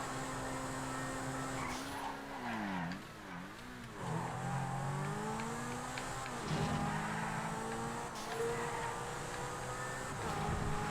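A Vaca supercar in GTA FiveM races with a close, droning engine whose pitch rises and dips through gear shifts and revs, sustained throughout.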